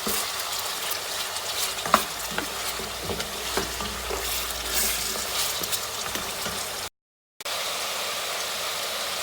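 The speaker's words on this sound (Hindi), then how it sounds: "ये देखिए 4-5 मिनट हो चुके हैं हमें इसे भूनते हुए।" Mutton frying and being stirred in a pan for Shinwari karahi, a steady close sizzle with scraping stirs, briefly cut to silence near the end.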